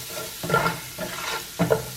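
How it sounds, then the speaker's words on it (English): Chopped onion stirred in a hot pan sizzles, with three scraping stirs in a steady rhythm over the constant frying hiss, heard close up with no talk. "I'm gonna go ahead and add that onion you chopped up. Well, not the whole onion. A little bit of that onion that you chopped up. Give that a mix."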